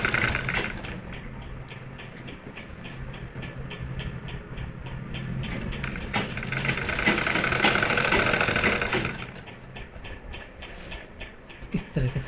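A sewing machine stitches a belt onto a saree, running in a steady rapid mechanical chatter that swells louder midway and then eases back, close by with no talk.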